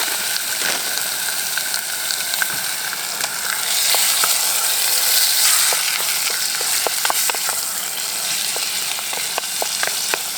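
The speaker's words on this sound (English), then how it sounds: "now we're going to seal the meat. So it's just sliced rump steak, and I've got the pan nice and hot," Sliced rump steak searing in a hot pan over a Trangia camping stove at a wild camp, a loud continuous sizzle with sharp spitting crackles that grow busier toward the end.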